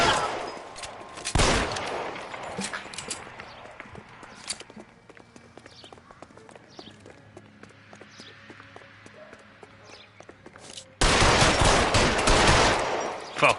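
Gunfire in the L.A. Noire video game: a dense burst of loud shots at the start, then scattered footsteps and hoof clatter, ending with another long, loud volley of rapid shots.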